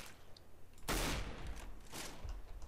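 Bursts of rapid video game gunfire crack out in quick succession, loud and close, with a short pause between volleys and no voices.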